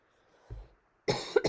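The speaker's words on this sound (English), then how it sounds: "Hopefully I don't go into a coughing fit." A faint throaty sound, then two or three sharp coughs close up, one after another.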